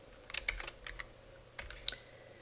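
Soft, close keystrokes on a computer keyboard, a short burst of light irregular taps while an email address is entered, with a quiet room hum and no speech.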